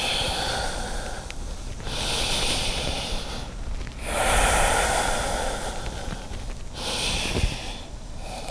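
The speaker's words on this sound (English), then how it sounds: "Complete breaths in and complete breaths out." Deep yoga breathing held in downward facing dog: slow, full breaths in and out, each long airy inhale or exhale swelling and fading over a couple of seconds, close and alone with no talk.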